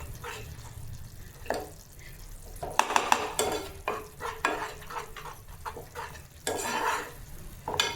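Dry fruits are stirred in a hot pan for rava laddu, with irregular scraping strokes and clinks of a spoon against metal over a soft sizzle, all close by.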